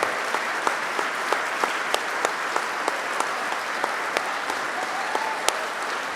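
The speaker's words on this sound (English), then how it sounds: "let's give her a round of applause" A crowd applauds steadily and loudly, a dense, even wash of clapping with a few sharper individual claps popping out, at a celebration honoring a coach's wife.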